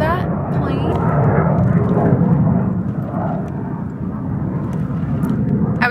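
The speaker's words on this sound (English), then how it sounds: "can you guys hear that plane?" A fixed-wing airplane passes overhead as a steady, broad low rumble that stays loud and continuous the whole time, heard on its own without anyone talking.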